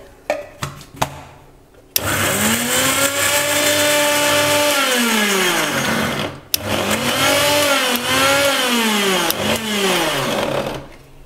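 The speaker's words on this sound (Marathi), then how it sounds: "आता आपण गुलाबाच्या पाकळ्या आधी मिक्सरच्या जार बारीक करून घ्यायचं, पाणी नाही घालायचं" A mixer grinder dry-grinding rose petals in its jar with no water, a few short clicks and bursts before a loud motor whine runs steadily for several seconds, cuts out briefly, then restarts and winds down.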